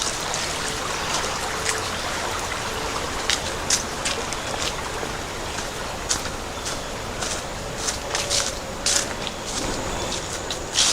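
A forest stream in Cedar Hollow Preserve flows steadily with a broad, close rushing and trickling wash and small bright splashes scattered throughout, and nobody talks.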